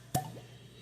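A single soft pop as a cork comes out of a wine bottle, short and close, followed by a faint trailing squeak.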